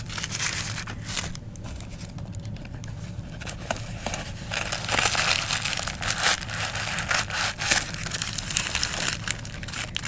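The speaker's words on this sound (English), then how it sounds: "Can make some crinkle sounds with these." Paper shoe trees from a New Balance shoe box are crinkled and crushed up close, a continuous rustle with sharp crackling bursts that swell louder midway, no voices.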